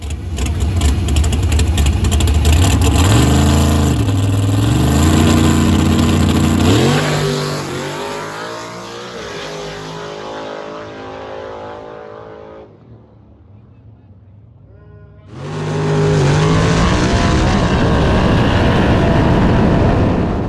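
No prep drag race car at Southside Dragway, West Virginia, revving hard through rising gear pulls for several seconds, fading away, then another engine roaring up loud nearby.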